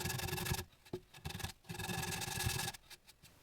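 A 100 grit sanding disc works over rough pocket holes in wood for a farmhouse table, heard as close, loud bursts of abrasive rasping separated by brief gaps as it moves from hole to hole.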